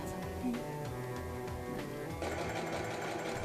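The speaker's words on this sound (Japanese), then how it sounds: "続いてはミシン作業。" A sewing machine stitches fabric for a cosplay costume, a steady mechanical whirring with a rhythmic needle chatter, running continuously and getting slightly louder and busier toward the end, with no voices.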